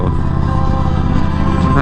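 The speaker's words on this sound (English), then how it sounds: "Man, I love motorcycles." A motorcycle riding along a street, its engine giving a steady, loud, close droning hum that holds without clear revving changes.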